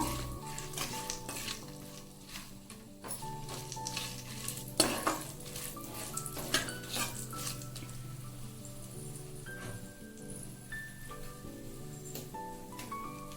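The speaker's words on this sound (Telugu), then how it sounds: "కొంచెం జీడిపప్పు మన ఇష్టం అన్నమాట. కొంచెం వేగనిద్దాము." Cashew nuts fry in hot oil in a pan while vegetable pulao is being made. A constant soft sizzle runs under light stirring and occasional utensil clinks, close up, with no talking.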